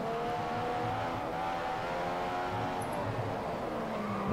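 A Formula 1 car in F1 2015 at the Chinese Grand Prix accelerates steadily from cockpit view, its engine a loud, continuous high-pitched whine rising through the revs as it moves to overtake.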